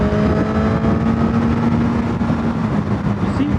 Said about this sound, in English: I love the sound of this bike